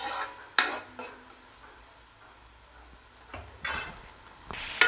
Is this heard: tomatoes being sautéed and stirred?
yes